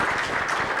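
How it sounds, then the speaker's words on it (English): An audience at an African LPG summit gives the panel a brief burst of dense applause, close and fairly loud, filling the moment without speech. "A round of applause to"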